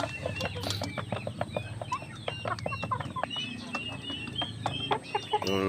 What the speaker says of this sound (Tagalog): Yung sisiyo ng ating pabo mga kapanok, nandun sa kulungan, ang ingay nila.